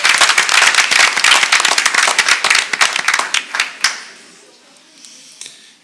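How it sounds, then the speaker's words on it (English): A school board meeting audience in Sayreville applauding and cheering, dense loud clapping that thins out into scattered claps and fades to near silence. "If we cheer one more time, maybe he'll hear us over at in Edison."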